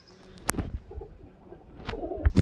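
A male Kalshira pigeon gives soft, low coos among scattered sharp clicks and rustles, heard close at moderate volume.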